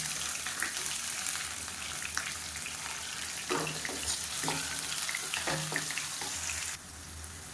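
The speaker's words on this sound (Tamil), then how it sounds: "கடுகு சோம்பு பொரியுது" Mustard seeds, fennel seeds and onion fry in hot oil, a constant sizzle broken by sharp crackles and pops from the seeds, heard close up. The sizzle drops to a quieter hiss near the end.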